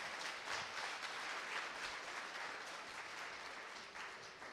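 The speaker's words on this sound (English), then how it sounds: "Let's give them another round of applause" A church congregation at an Easter Sunday service gives new members a round of applause, a soft, distant, even patter of many hands that tapers slightly at the close.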